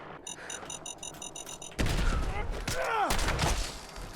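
Gunfire from Fallout 4 breaks out after a stretch of quiet mechanical ticking. Loud, dense bursts of shots and impacts follow, with sweeping whooshing effects layered over a busy, rumbling game soundscape.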